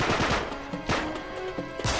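Gunfire in the Uncharted 3 video game, several sharp shots spaced irregularly over a steady background of game noise, with no talking.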